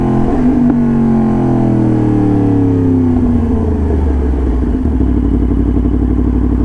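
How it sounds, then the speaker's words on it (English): A 2022 Yamaha MT-10 SP motorcycle engine revs up hard through the gears, its pitch climbing and then dropping as the quick shifter snaps each upshift, loud and close from the riding position. "That quick shifter is just so smooth though."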